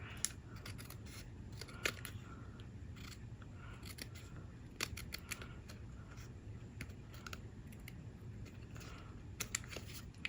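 Scissors snip through card stock in a run of sharp, quiet clicks, scattered irregular cuts close by over faint background hiss, no speech.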